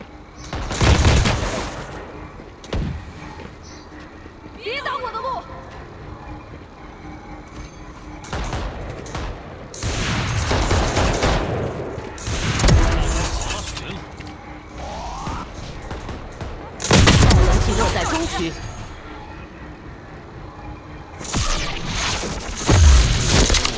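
Gunfire in Valorant Mobile on the Breeze map, with loud bursts of rapid shots and sharp booms arriving in several separate volleys across the clip, close and punchy.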